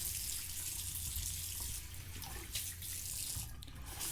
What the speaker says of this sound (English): let's give this a rinse and see where we're at